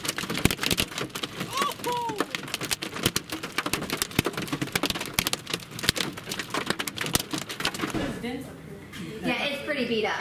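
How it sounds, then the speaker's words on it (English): Hail hammers a car's body and windshield in a dense, irregular patter of sharp impacts throughout, with people talking in between and a brief rising whistle-like sound early on. "Hail punched through the windshield."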